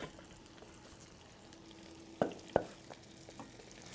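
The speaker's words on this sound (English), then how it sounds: "Once I get them all in here and we start frying them" Chicken wings fry in a skillet with a steady, close sizzle, broken by two sharp pops near the middle.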